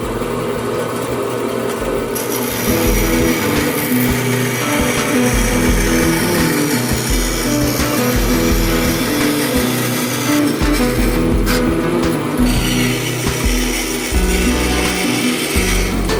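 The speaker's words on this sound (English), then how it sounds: "We can fix this with sanding." Continuous loud whirring and grinding of a power sander working wood, with a brief change in pitch midway.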